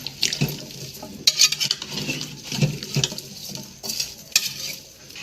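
Utensil scraping and clinking against a metal pressure cooker pot as carrot gajrela is stirred, with irregular wet stirring sounds and sharp clanks, no voices.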